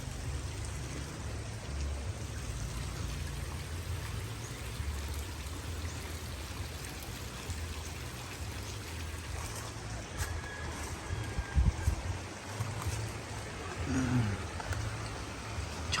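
River water runs steadily in a broad, continuous wash beside a bathing spot, close and even throughout, with a few brief louder splashes or knocks near the end and no talk.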